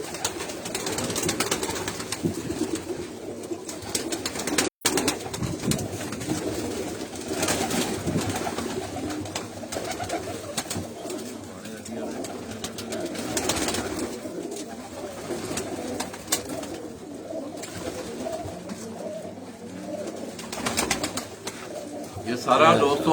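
Breeder pigeons in a breeding setup coo steadily and softly throughout, with repeated low throaty calls over a constant background murmur and occasional talk nearby.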